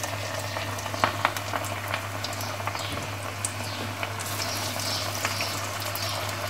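Onion potato pakora batter fries in hot oil, producing a continuous, soft bubbling sizzle with small crackling pops, fairly faint and steady throughout.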